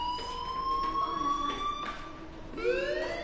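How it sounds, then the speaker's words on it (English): A fire alarm sounds in the video game Life Is Strange, a steady high electronic tone that slowly rises in pitch, cuts out near the middle, then returns with a fresh rising sweep, loud and with no talking over it. "Hey, do you hear that fire alarm?"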